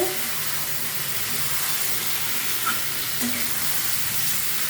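Egg and potato curry masala sizzling and frying in oil in a pan as red chilli is stirred in, a steady, dense hiss that stays even throughout, close up.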